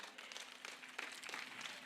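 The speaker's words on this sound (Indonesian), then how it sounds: "Beri tepuk tangan kepada beliau." Brief applause from an audience at an evening welcoming gathering, a soft, fairly distant patter of many hands clapping together for under two seconds.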